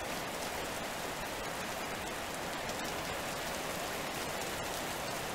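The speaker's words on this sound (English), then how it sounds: "It's probably because it's raining." Rain falling in the farming video game Cattails, a steady, even hiss of rainfall that continues without a break and without any voices.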